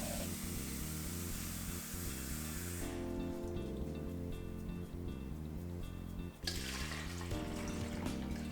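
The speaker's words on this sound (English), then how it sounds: "I'm going to measure out 6 cups of water and add it to this pitcher" Tap water runs steadily into a pitcher as cups are measured out, a continuous splashing stream with a hollow, rising tone as the vessel fills, interrupted briefly before resuming loudly, with no talking.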